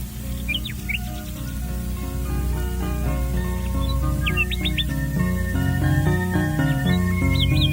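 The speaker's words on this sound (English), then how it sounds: "Then the Nightingale began to sing." Nightingale song set against a dense tonal musical bed of sustained notes, with short bright chirping phrases repeating at intervals over the steady, moderately loud background throughout.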